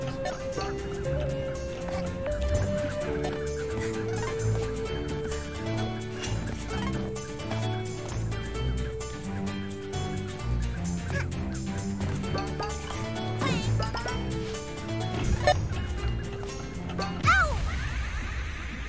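Birds cluck and gobble in A Hat in Time, turkey-like calls repeating over a steady game music track at moderate volume, with a few brief louder bursts near the end.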